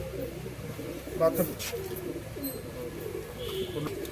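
A pair of adult domestic pigeons, a male and female offered for sale, coo softly and low nearby while someone talks over them, with a few brief louder bursts.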